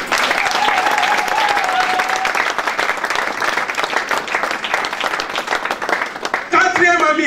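A church congregation at a thanksgiving service for the DR Congo bursts into loud, sustained applause and cheering that fills the whole stretch, with a voice carrying a sung note early on and music-like tones near the end.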